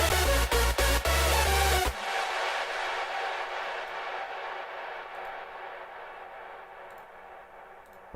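A layered hardstyle synth lead plays in a full mix with heavy, pulsing kick-driven chords for about two seconds. It then cuts off, leaving a long, bright reverb tail that fades slowly toward silence.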